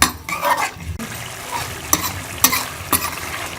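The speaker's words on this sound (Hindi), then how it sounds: "2 से 3 मिनट हम अच्छी तरह से मसाले में लोबी की फलियाँ को भून लेंगे।" Black-eyed bean pods being fried in spice masala, a sizzling pan with several sharp scraping strokes of a stirring spoon at regular intervals; no talking.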